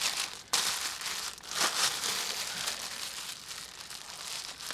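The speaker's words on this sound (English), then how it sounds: "Once you wrap it up, then you want to put a plastic bag over it." A plastic bag crinkles and rustles continuously up close as it is pulled over towel or newspaper wrapping on an outdoor pipe to keep out water, in busy papery crackles with no voices.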